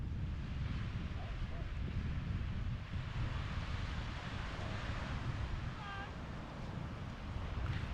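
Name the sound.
sea waves on the beach at Flamborough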